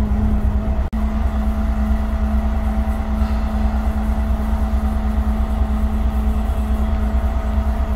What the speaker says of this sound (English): So this is one of my favourite models of buses, it's the Volvo Ailsa.